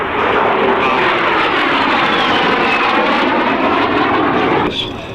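Jet aircraft powered by a de Havilland Goblin engine roars past at an airshow, a loud sustained rushing whine with a swelling and fading tone that cuts off near the end.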